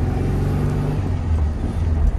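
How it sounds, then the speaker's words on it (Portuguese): A 1978 Volkswagen Fusca (Beetle) engine drones steadily while driving, a close, continuous low rumble with a slight swell toward the end and no voices over it. "agora o Gustavo também tá dirigindo o Fusca aí"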